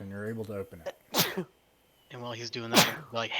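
Two sharp sneezes burst out, one near the middle and one toward the end, each loud and close, set among a man's ongoing speech around them.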